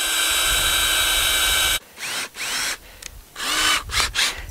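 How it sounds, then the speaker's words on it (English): A power drill with an eighth-inch bit boring a pilot hole in pine, a steady high whine for nearly two seconds, then several short bursts as the trigger is pulsed, loud and close. "I like to use an eighth inch bit just to drill a pilot hole"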